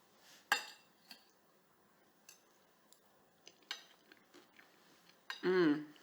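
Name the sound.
fork and knife on a plate while eating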